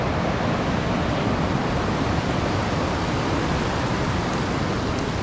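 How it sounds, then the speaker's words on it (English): Fast-flowing water at Plitvice Lakes after recent heavy rain, a steady, dense roar of rushing water filling the whole clip without a break, close and constant. "Water is definitely flowing pretty fast."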